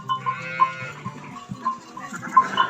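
Sheep bleating nearby, several wavering calls from more than one animal, with faint clinks of bells in the background.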